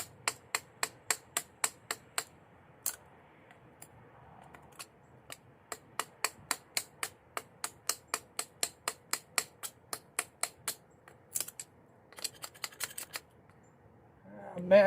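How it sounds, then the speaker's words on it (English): Spyderco Shaman knife blade chopping through a small wooden nub on a branch, a long run of sharp, evenly spaced woody strikes, close and crisp, with a quicker burst near the end. "Chop off that little nub."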